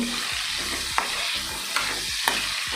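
Okra fries in a pan for dahi bhindi, giving a close, steady sizzle. Rhythmic scraping stirs come about every half second, with a few sharper spatula knocks against the pan. No one speaks.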